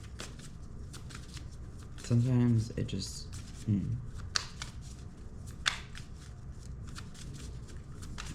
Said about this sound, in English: Okay, maybe some more shuffling.